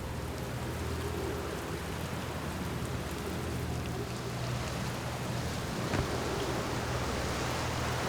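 Steady broadband rain hiss from a storm in the space exploration game Outer Wilds, continuous and even throughout with a low rumbling undertone, no distinct thunderclap standing out.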